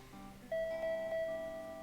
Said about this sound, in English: ignoring the doorbell's constant ringing.